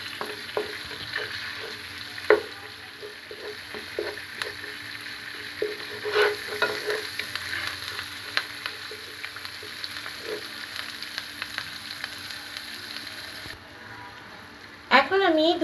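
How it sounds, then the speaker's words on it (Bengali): A spice paste of ginger paste, garlic paste and turmeric fried and stirred in a pan: a continuous close sizzle with scattered scraping strokes, under a voice talking, ending in a brief louder burst. "আদা বাটা, 1 চা চামচ পরিমাণ রসুন বাটা আর হলুদ গুঁড়ো দিয়ে ভালো করে মশলাটাকে কষিয়ে নিব"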